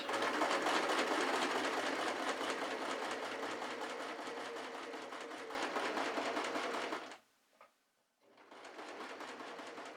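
A sewing machine stitching a bunny plush runs in a fast, steady whirring chatter close by, stops briefly near the end, then starts up again.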